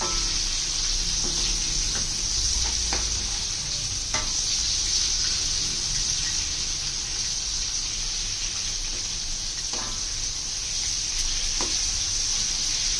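Chicken wings frying in hot oil for crispy KFC-style fried chicken, a steady broadband sizzle with faint stirring clicks throughout, close and continuous with no talking.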